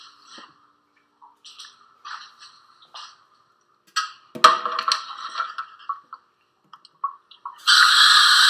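Ice clinks into a measuring cup holding raw prawns and baking soda, then tap water gushes in loudly near the end.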